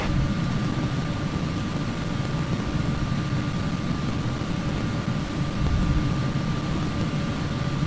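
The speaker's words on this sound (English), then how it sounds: "We can proceed for a rolling takeoff." Aircraft engines roaring steadily at high power during a rolling takeoff in the Prepar3D flight simulator, a constant loud drone with a faint tonal whine, no voices.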